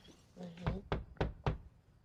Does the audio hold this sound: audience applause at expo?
no